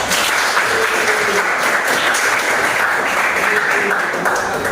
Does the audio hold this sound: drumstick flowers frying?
no